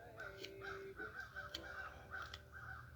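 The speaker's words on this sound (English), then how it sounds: "The crows are having fun here." Crows cawing outdoors, several harsh repeated caws at a moderate distance over a quiet background, with a faint low hum underneath.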